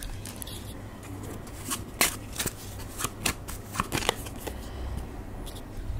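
Tarot cards are shuffled and drawn by hand, giving a close series of soft riffling flutters and crisp snapping flicks over a low steady background hum.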